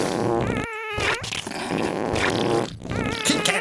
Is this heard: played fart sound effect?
yes